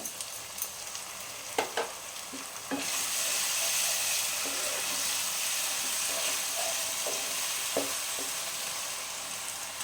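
Tomato paste sizzling and frying in a hot pan while being stirred, for dhaba-style paneer masala; a steady moderate hiss that swells after a few clicks of the spoon, with scraping stirs throughout.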